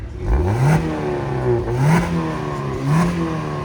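A 2023 Maruti Suzuki Swift with a loud valvetronic exhaust, valves closed, is revved hard. It gives three rising and falling engine roars over a steady idle, close and loud with no speech.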